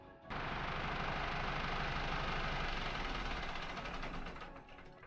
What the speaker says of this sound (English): Now that she's nice and secure, we can shut off the engine.